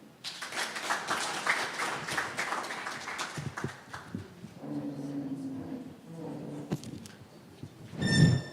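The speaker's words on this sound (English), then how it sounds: "let's give another round of applause to our chairman" An audience at a university alumni association anniversary celebration applauds after a speech, with dense clapping for several seconds that thins out, under some talk and crowd noise.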